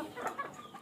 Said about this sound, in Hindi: तो एक मुर्गी ये बैठी है अंडों पर और एक मुर्गी अंडों पर वो बैठी है।